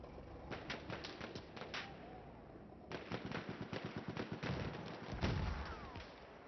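Video game gunfire and grenades in a competitive 5v5 Apex match: rapid automatic bursts crackle nonstop, with a heavier explosive thump partway through, loud and dense with no talk.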